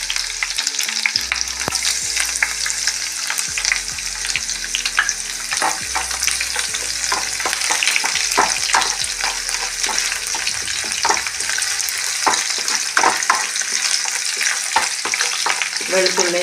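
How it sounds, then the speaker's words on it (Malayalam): Chopped shallots and garlic fry in a pan with a loud, dense, crackling sizzle that runs without pause, punctuated by sharp spatter pops and a low hum underneath. "വെളുത്തുള്ളി ചുവന്നുള്ളിക്ക് ഒന്ന് ഫ്രൈ ആയി വെക്കണം"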